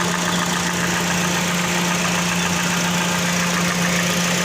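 Toyota Vios engine idling smoothly after a misfire repair with new spark plugs and a cleaned throttle body, a close, steady, even hum with no stumbling, running alone without talk.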